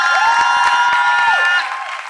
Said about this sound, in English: A round of applause for the Mothers of